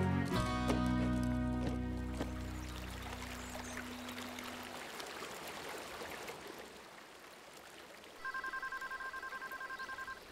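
A telephone speed-dial key places a call, with a short run of steady electronic beeping tones after a stretch of rushing, watery background noise.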